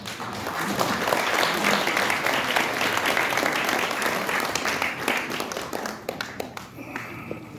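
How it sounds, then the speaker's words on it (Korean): A crowd at a political rally applauds steadily for several seconds, dense clapping that thins out toward the end. "큰 박수로 맞이해 주시기 바랍니다"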